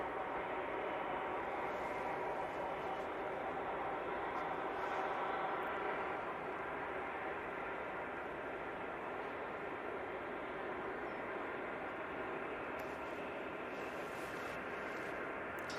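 An EasyJet Airbus A320-200 at Manchester Airport produces a steady, broadband jet roar that holds at a constant loud level, with no talk over it.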